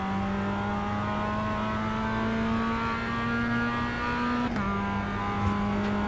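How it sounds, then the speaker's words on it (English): A Mazda MX-5 engine in a racing video game drones flat out at a steady high pitch, with a brief dip like a gear change partway through, loud and continuous. "Up to the Michael Schumacher S, flat out in the MX-5, just super easy."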